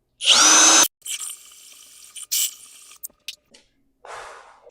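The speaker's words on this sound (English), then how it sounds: "And then drill your hole right here." A power drill bores a hole in wood in one loud, high whirring burst of under a second, followed by quieter handling clatter and brief knocks.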